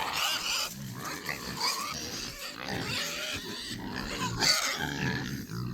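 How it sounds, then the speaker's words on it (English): Idaho pasture pigs in a small farm paddock, a continuous close chorus of grunts and snuffling oinks from several animals across the whole stretch, fairly loud with no clear talk over it. "Idaho pasture pigs this time around."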